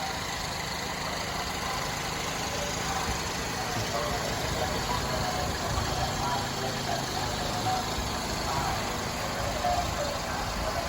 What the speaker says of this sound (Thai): ให้ฟังเสียงเครื่องกันก่อนแล้วก็มาสรุปราคานะครับ